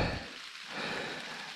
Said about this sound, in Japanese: 雨足がこれ以上強くならないと思うんですけど、行ってみます